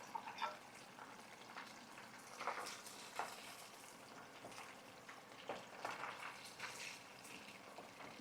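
Oysters frying in hot oil, a soft, steady crackle and sizzle with scattered pops, fairly quiet and alone.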